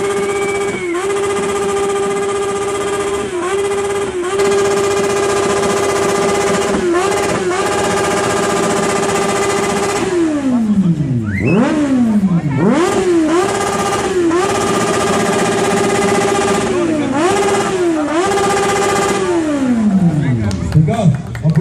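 A motorcycle engine idles steadily, then revs hard several times in quick bursts at a loudest-motorcycle contest, the pitch climbing and falling, loud and close.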